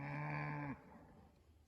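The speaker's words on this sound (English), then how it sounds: "They sound like big cattle" A single loud, close bellow from beef cattle of about 1,000 pounds, part of a herd of 350 head being moved on a hillside pasture, cuts off abruptly after under a second, leaving a quiet outdoor field.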